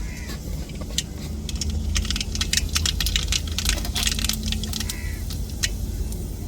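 Mustard seeds spit and crackle in hot oil in a home cooking pan, with irregular sharp pops scattered over a low background hum.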